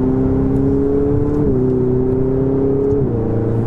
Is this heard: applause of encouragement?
no